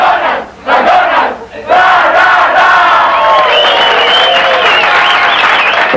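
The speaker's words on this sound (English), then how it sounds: "In Mexico, the crew starts the day and finishes it with a cheer." A McDonald's crew in Mexico lets out a loud group cheer, a brief burst of shouts followed by sustained whooping and yelling from many voices close by.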